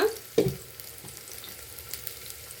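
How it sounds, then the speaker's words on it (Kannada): Onions frying in a pan for mutton chops, a soft low sizzle with a sharper spatter early on, then quieter crackling and faint clicks. "ಆನಿಯನ್ ಬೇಯ್ತಾ ಇರಲಿ"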